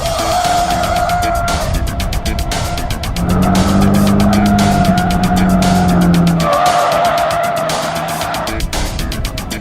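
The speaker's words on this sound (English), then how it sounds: "the Turbo Coupe might not cut it as a cone slayer, but at least it can slide" A 1988 Ford Thunderbird Turbo Coupe with limited-slip differential slides on a test course, tires squealing loudly in long rising and falling howls over a strained, revving engine, close and continuous.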